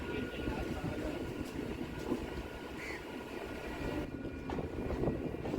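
A Kolkata circular railway local train running from Barrackpore toward B.B.D. Bag, a dense continuous rumble and rattle of wheels and carriage heard from inside, with a few brief clanks and a shift in tone near the end.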